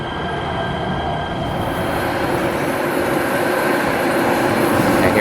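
A Los Angeles Metro train rolls past steadily through the station with a continuous rumbling roar and faint metallic squeals, loud and close, no voices.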